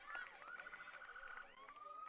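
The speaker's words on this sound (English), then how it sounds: "And now we have a bunch of sirens and ambulance headed this direction." Emergency vehicle and ambulance sirens wail near a softball game, rising and falling tones overlapping in a continuous, moderately distant cry over faint background noise.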